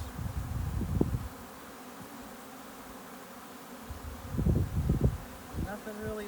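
Honeybees buzz around an open hive during an inspection a few days after a package install, a low drone swelling in two louder bursts with quieter hum between.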